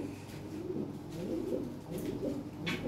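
Pigeons for sale coo in a steady, overlapping low murmur that runs continuously at moderate loudness, with no voices.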